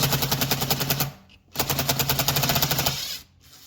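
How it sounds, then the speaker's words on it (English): A 5/16 nut driver, likely powered, runs in fast buzzing bursts while backing screws out of a 2013 Jeep Wrangler interior panel. Two steady ratcheting runs of about a second and a second and a half are split by a short pause, close and fairly loud. "I'm using a 5/16 nut driver."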